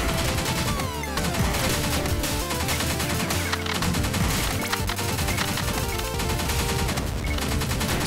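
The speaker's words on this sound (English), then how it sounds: "Slow time while wasting grenades." Dense volley of explosions and rapid gunfire from a twin-stick shooter game, with grenades bursting in quick succession amid continuous loud, chaotic combat noise.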